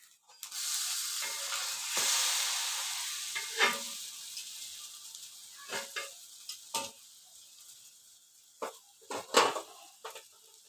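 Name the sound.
dosa cooking on a pan over low heat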